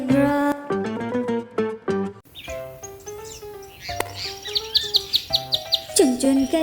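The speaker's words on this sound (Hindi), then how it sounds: "चुन चुन करती आई चिड़िया, दाल का दाना लाई चिड़िया।" Bright bird chirps and tweets set into a children's song, repeated rapid calls over musical tones, loud and close with sung voices.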